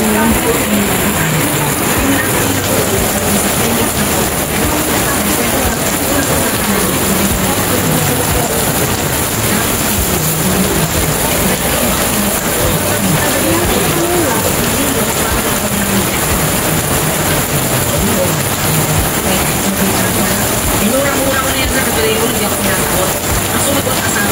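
Steady rain pours over a street-side vendor area, a dense continuous hiss that stays even throughout, with faint voices in the background.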